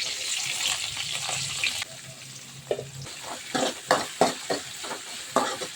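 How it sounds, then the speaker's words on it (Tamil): Onions and garlic fry in hot oil with fenugreek seeds, a crackling sizzle underneath as a spatula scrapes and stirs the pan in repeated close, rhythmic strokes. "வெங்காயம் நல்லா வதங்கட்டும்."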